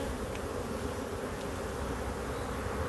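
Dense, steady buzzing of many honeybees rising from an opened hive in a boosted colony being readied for honey production, a continuous close drone with no pauses and no voices.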